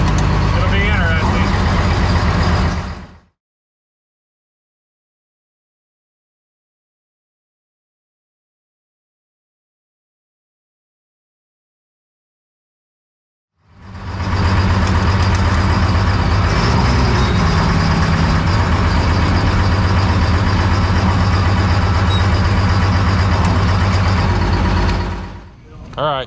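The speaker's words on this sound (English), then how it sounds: "I'll try to take you guys for a ride with me in the monster truck at least." Monster truck driving through rainy city streets, a loud, continuous engine drone that drops to complete silence for about ten seconds midway, then returns just as loud.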